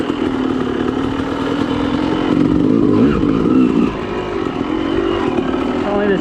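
An enduro motorcycle rides a trail along the edge of a high cliff, its engine droning steadily and rising slightly mid-run before settling again, close and continuous for several seconds.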